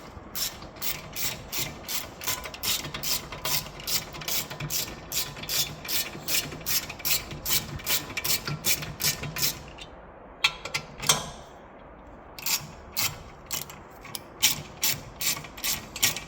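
A hand ratchet clicks in rapid, regular bursts while loosening the 7mm bolts on the front brake caliper of a 2018 VW Polo. The pawl clatter is close and crisp, pauses briefly, then resumes with slower, spaced clicks.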